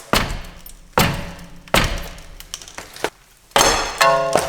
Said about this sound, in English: The caliper is hitting the 2x4.